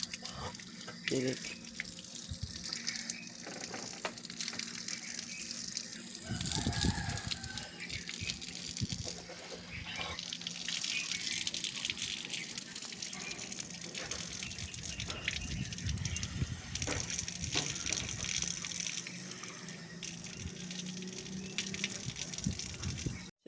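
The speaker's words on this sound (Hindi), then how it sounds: "ठीक, इससे सब आ गए हैं, हाथ मुँह धो रहे हैं।" Tap water gushes and splashes into a basin outdoors at 5 am as people wash their hands and faces for ablution, a continuous close, moderately loud flow with rattles and drips, while voices talk faintly at times.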